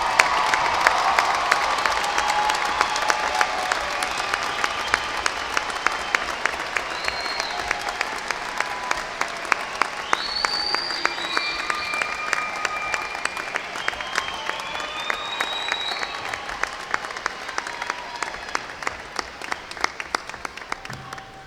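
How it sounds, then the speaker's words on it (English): Commencement audience applauding graduates at a university winter undergraduate ceremony, a sustained dense wash of clapping and some cheering that holds steady and loud for the full length, with no talk over it. "Let's give them a round of applause."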